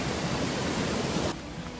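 The Yeh Pucuk waterfall in Bali, a fall of about 15 meters that drops underground, roars as a loud, dense, unbroken wash of water that eases a little near the end.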